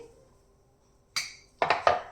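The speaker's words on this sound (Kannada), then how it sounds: "ಮಿಕ್ಸಿ ತಗೊಳ್ತಾ ಇದ್ದೀನಿ" A few hard clinks and clatters of a mixer grinder jar being picked up and set in place, one knock followed by three quick ones, close by.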